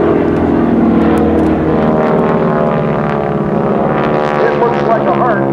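Geico Skytypers propeller aircraft flying at the 2010 Westfield International Airshow, a loud continuous engine drone that rises and shifts in pitch as it passes, with an announcer talking over it.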